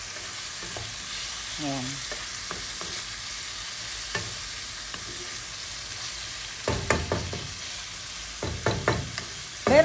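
Vegetables stir-fried with a wooden spoon in a non-stick pan, a steady sizzle broken by scraping strokes that grow louder and busier toward the end, with a brief spoken word.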